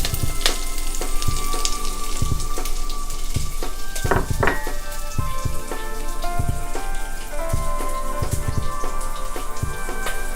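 Chopped green chilies and ginger hit hot oil with mustard seeds for a Kerala cabbage carrot thoran, a loud, close, crackling sizzle with sharp popping spatters throughout and no talking.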